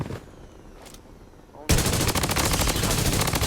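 Loud sustained automatic gunfire from a weapon in the mobile shooter Blood Strike, a rapid dense burst starting suddenly after a quieter stretch and continuing without pause to the end.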